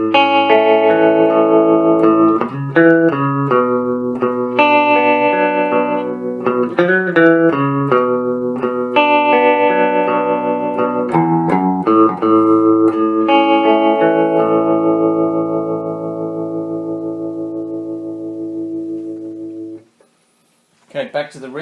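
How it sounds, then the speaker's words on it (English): A Les Paul with humbucker pickups played through a Quilter Micropro Mach 2 amp with tremolo on and reverb off, clean notes and chords pulsing in steady volume waves before ringing out to silence. "I'm going to turn the reverb off and demonstrate the tremolo."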